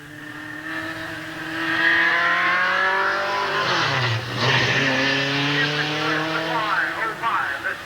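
Race cars at Midvale Speedway in 1988, engines rising and falling in pitch as they roar past, one nearby car sweeping through with a dip in tone, under a public-address announcer talking.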